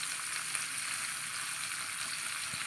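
Salted dried fish (patthar mundi) frying in a pan, a steady, fairly faint hiss of hot oil with no speech.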